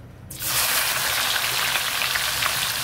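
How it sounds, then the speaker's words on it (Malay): Anchovies frying in hot oil with young galangal burst into a loud, crackling sizzle that starts abruptly and stays steady and close, with no one speaking. "kita goreng ikan bilis dulu"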